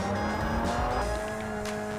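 A Ferrari 355 engine in the video game Project Cars 2 hums with steady high tones, then shifts pitch as it revs, with a brief tire squeal; no talking.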